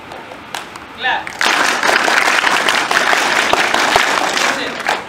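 Many people at a music workshop clap in unison in repeated loud bursts, dense and close, with a short spoken cue and a pause before the clapping takes over.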